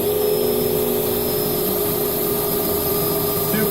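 A power drill whines continuously at high speed while its bit grinds through metal, loud and close, with a rough edge throughout.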